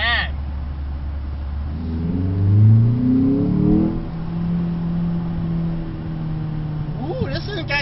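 A 2012 Ford Focus SE with a manual gearbox accelerates from inside the cabin, the engine note climbing through rising revs, then settling into a steadier drone, with a person exclaiming over it.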